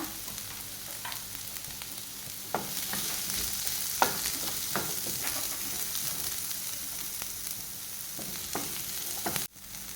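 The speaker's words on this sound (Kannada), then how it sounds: "ಒಂದು ನೀರುಳ್ಳಿಯನ್ನು ಹಾಕ್ಕೊಳ್ತಾ ಇದ್ದೇನೆ. ಹಾಗೂ 7ರಿಂದ 8 ಎಸಳಷ್ಟು ಬೆಳ್ಳುಳ್ಳಿಯನ್ನು ಹಾಕ್ಕೊಳ್ತಾ ಇದ್ದೇನೆ. ಇದನ್ನೀಗ ಚೆನ್ನಾಗಿ ಫ್ರೈ ಮಾಡ್ಕೊಳ್ಳೋಣ." One onion and seven or eight cloves of garlic fry in a pan for a Mangalore-style chicken gravy, with a steady soft sizzle broken by several scraping stirs of a spoon, close and alone.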